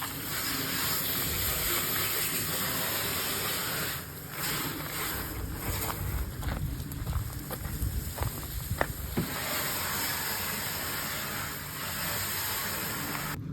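Steady hissing spray of water from a hose onto a Foxbody Mustang's engine bay and fender tops, continuous and fairly close, with a few sharper splashes and bursts partway through.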